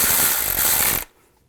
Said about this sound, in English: Put the bolts in, tighten them down.